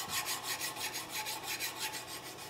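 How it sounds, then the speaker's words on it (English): A hand file rasps back and forth over a brass part near its screw holes, continuous close scraping strokes with a steady rhythm and no voices. "So when you're filing along screw holes, kind of go around them and not right over top them maybe."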